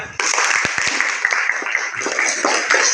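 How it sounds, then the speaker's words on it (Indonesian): A classroom group claps for group 3 after their presentation, a dense burst of applause that starts abruptly and holds steady and fairly loud for a few seconds, with a few sharper individual claps and murmuring voices underneath. "kita kasih aplaus untuk kelompok 3"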